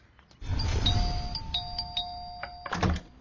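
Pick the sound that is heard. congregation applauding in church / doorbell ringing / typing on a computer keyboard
doorbell ringing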